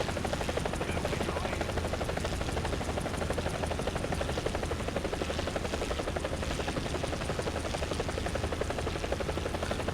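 A BO 105 helicopter in the War Thunder video game, its rotor and engine giving a loud, continuous, close rhythmic chopping drone that stays steady throughout with no talking.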